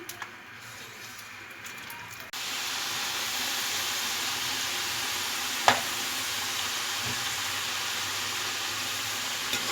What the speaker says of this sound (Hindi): अब मैं फिर से सारे फ्राइज़ ऑयल में डाल रही हूँ।